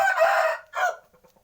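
A Burmese game rooster crows close and loud, one full cock-a-doodle-doo call with a short second phrase, then fades into a few faint clucks.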